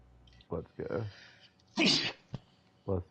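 A single loud sneeze bursts out between short bits of conversational speech, close to the mic in a quiet indoor setting.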